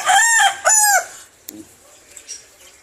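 A rooster crows loudly nearby, two drawn-out calls in quick succession, followed by quieter clucks and faint background noise.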